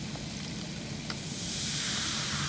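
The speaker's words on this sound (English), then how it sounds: "We'll let that sizzle up a little bit." A steady hissing fizz from a vinegar reaction that swells louder partway through, with no voices over it.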